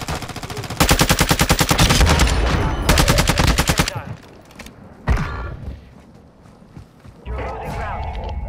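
Video game gunfire on Ashika Island, two loud sustained bursts of rapid automatic fire close by, followed by a sharp single shot and scattered fainter shots, with players talking over it.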